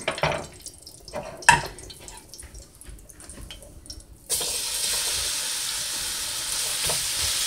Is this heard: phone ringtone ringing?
no